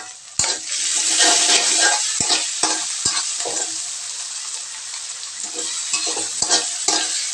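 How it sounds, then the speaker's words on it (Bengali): Ginger and garlic paste frying with lightly browned onions for a snakehead fish dish, a bright continuous sizzle with sharp spoon clicks and scraping stirs against the pan, close and fairly loud, with no voices. "দিয়ে দিলাম আদা বাটা আর রসুন বাটা।"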